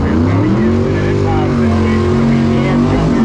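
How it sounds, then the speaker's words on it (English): Supercharged drag racing car engine with blower at Carolina Dragway during Hot Rod Drag Week, a loud sustained droning roar with shifting pitch, steady and close, with a voice faintly in the mix. "you love the way the blower sounds, so yeah, I want to hear it"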